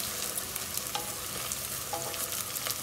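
Cumin seeds sizzle and crackle steadily in hot oil as the base for a trotters curry, a continuous close frying hiss with small pops throughout.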